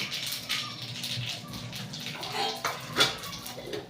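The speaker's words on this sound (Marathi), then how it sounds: "तर हे छान चांगलं तडतडून झालेलं आहे" Mustard seeds and cumin crackle and pop in hot oil in a kadhai, a faint, busy spatter of small pops with a brighter burst near the end, no voices.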